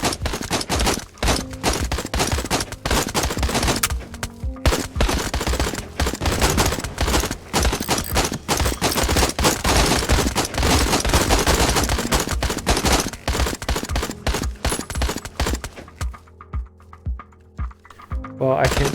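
Rapid gunfire from the VR shooter Out of Ammo rattles in dense, continuous bursts for most of the stretch, loud and close, then thins out into scattered shots near the end.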